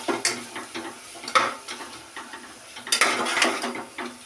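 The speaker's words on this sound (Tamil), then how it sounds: "இப்போ இது நல்லா கலந்து விட்டுறலாம்." A spoon stirs curry in a pan with chili powder just added, giving close, irregular scraping and clinking strokes, with brief louder bursts of metal against the pan.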